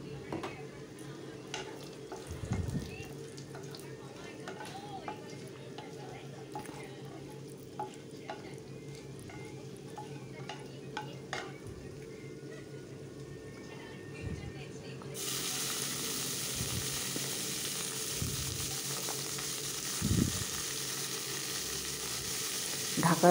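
Banana stem pieces fry in a pan after a dried red chili tempering, a low steady sizzle with intermittent spatula scrapes and knocks, growing brighter and louder toward the end.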